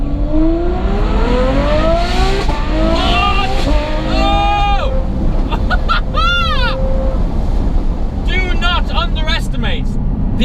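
A Ferrari F12 revs hard while driving, heard from inside the cabin with the windows cracked open. Its engine note climbs repeatedly through loud, close, rising sweeps and drops back between pulls.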